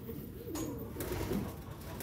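Domestic pigeons coo softly in a rooftop loft, a few low throaty calls close to the microphone over faint background noise.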